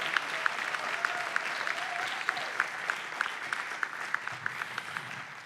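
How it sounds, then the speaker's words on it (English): An awards-ceremony audience at Mānoa applauds Martina Kamaka with sustained, even clapping from a large crowd, a few sharper individual claps standing out in a regular pattern above the wash. "A round of applause for Martina Kamaka"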